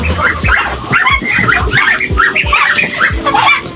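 Chickens on a poultry egg farm cluck and squawk in rapid, overlapping bursts close by, with sharper dog-like barks mixed in over a constant background hum.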